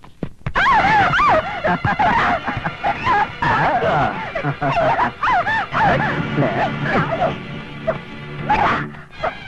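A dog barks and whimpers in a series of high, wavering whines and sharp yelps, close and loud, with people talking over it at times.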